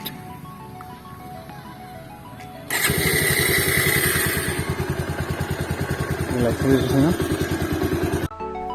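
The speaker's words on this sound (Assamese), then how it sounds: "তো দেখিলে আপোনালোকে কেনেধৰণে ভয়েস কমাণ্ডেৰে বাইকখন ষ্টাৰ্ট কৰিলে" A smart motorcycle started by voice command: a voice speaks first, then the engine catches suddenly and runs with a loud, close, pulsing idle for about five seconds before cutting off abruptly.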